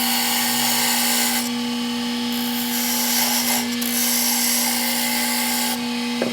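Wood spins on a lathe while being turned down, giving a continuous motor hum under a scraping, rasping cut that swells and eases as the tool presses in and lifts away.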